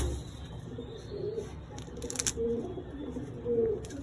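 Pigeons coo softly in a loft during preparation of racing birds, low rumbling calls repeating at intervals amid background noise and a brief scissor-like snip.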